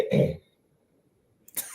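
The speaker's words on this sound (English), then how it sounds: "Let me clear my throat." A single throaty clearing sound, close and fairly loud, followed by near silence and a brief breathy noise at the end.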